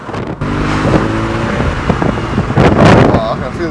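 An Audi RS4 with a 4.2-litre naturally aspirated engine revs up loudly nearby, a rising engine note with wind buffeting, and people talk over it.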